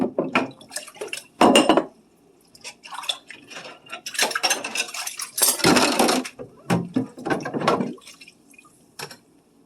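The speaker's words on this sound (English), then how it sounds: "let's wash up these dishes" Dishes, a coffee mug and cutlery being hand-washed in a sink of water, with intermittent clattering and clinking bursts, close and fairly loud, separated by brief quieter pauses.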